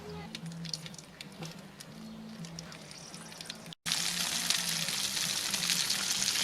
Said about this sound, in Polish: Śliwki będą się piekły na grillu dość krótko, bo chodzi tylko o to, aby ze wszystkich stron boczek się ładnie zrumienił